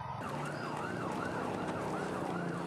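Dozens of ambulance sirens wail together on the way to Cililin hospital in West Bandung, a continuous rising and falling cycle that is loud and steady over traffic noise, with no talking.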